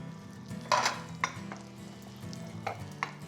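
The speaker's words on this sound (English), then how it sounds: "Butter and olive oil, medium heat in my cast iron pan, this on top." Food fries at medium heat in butter and olive oil in a cast iron pan, a low steady sizzle with a few sharper clinks and scrapes, as if something heavy is pressed on top.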